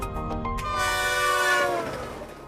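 A passenger train sounds its horn at a railway station on the Assam–Mizoram border, one long loud blast that swells and then fades over the rumble of rolling rail cars.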